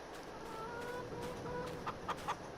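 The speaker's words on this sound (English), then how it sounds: "Let's check on the chickens quickly." Chickens in the Farming Simulator 22 game cluck softly in the background, with a few short, sharper clucks near the end.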